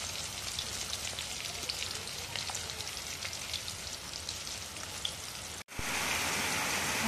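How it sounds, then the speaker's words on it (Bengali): Steady, dense hiss of heavy rain pours on without a break, broad and close, briefly cutting out near the end before resuming. "আর বাইরে এত জোরে বৃষ্টি হচ্ছে, আমার সাউন্ডেরও অসুবিধা হবে"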